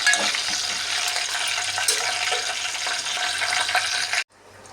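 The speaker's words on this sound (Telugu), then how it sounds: "చిన్నులపాయలు, ఎండుమిర్చి, ఆవాలు, జీలకర్ర మొత్తం అయితే వేసేసి ఒకసారి" Shallots, dried red chillies, mustard seeds and cumin sizzle in hot oil for a tempering for tomato dal, a steady close crackle and hiss that cuts off abruptly near the end, leaving quiet room noise.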